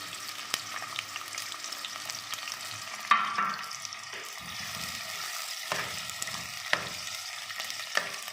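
Onions frying in hot oil in a heated pot for chicken shorba, a loud continuous sizzle close by with a few sharp spatters and stirring knocks.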